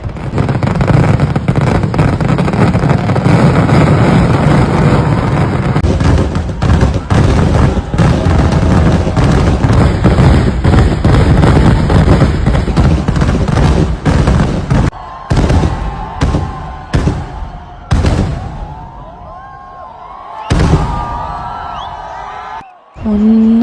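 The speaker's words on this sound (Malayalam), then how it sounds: "പാർമക്കാവിൻ്റെ വെടിക്കെട്ട് സ്റ്റാർട്ട് ചെയ്തേ" Dense, continuous barrage of booming fireworks at the Thrissur Pooram festival, loud and rumbling, easing into separate sharp bursts with a crowd shouting and cheering toward the end.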